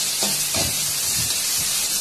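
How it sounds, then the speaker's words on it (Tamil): Crushed garlic and curry leaves sauté in hot oil in a pan, a steady close sizzle and hiss with a few soft stirring scrapes breaking through, no voices. "பூண்டு சேர்த்துட்டு கொஞ்சம் வதக்குறோம்"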